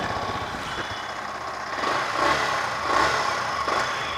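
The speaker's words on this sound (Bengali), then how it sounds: "সো একটু রেভিং করি আমি।" A brand-new Yamaha R15M motorcycle idles nearby, its engine rising in a few gentle, short revs rather than hard throttle blips.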